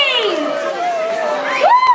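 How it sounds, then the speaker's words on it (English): Children and adults cheer and whoop together at a school Children in Need 2013 event, a lively crowd noise with rising shouted voices toward the end. "Big round of applause"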